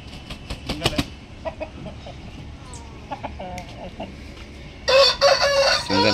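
A black Aseel rooster of the Madipura type crows loudly and close, one long strained call near the end after several sharp clucks and squawks, with faint background noise throughout.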